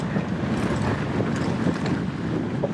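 Steady wind buffets the microphone with a constant rough rush, no voices, just continuous blustery noise throughout.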